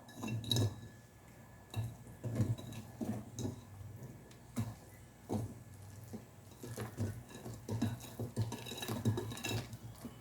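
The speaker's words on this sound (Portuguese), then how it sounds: "Vou adicionar outra metade da farinha. E misturar." The second half of the flour is stirred into chocolate cake batter in a bowl: a spoon or whisk knocks and scrapes against the bowl in an uneven rhythm, close and fairly quiet.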